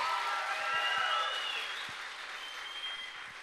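Concert audience clapping for a singer, a steady wash of many hands that swells early and slowly tapers off, heard from within the crowd with no talking over it.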